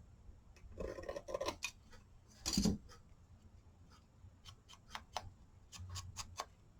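Paper being trimmed for a book page pouch craft: several crisp snips and slicing strokes of scissors or a trimmer at close range, with a longer cutting pass midway and a few light taps, no talking.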